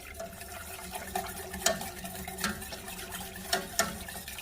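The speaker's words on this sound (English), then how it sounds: "Make sure you mix and whisk very well when you're pouring this in" Heavy cream and chicken broth being whisked into a chili mac casserole made with hamburger meat, a steady wet swishing with light clinks of the whisk against the pan at irregular intervals, close and fairly quiet with no talk.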